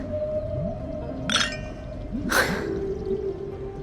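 Two bright glass clinks ring out a second apart during a toast in Honkai: Star Rail, set over a soft sustained musical backdrop.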